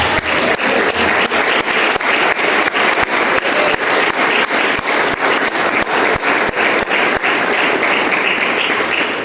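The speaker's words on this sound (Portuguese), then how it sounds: "Quem pode aplaudir Jesus por essa palavra?" Loud, dense applause from a large church congregation during a sermon, sustained and steady throughout with sharp individual claps standing out near the front.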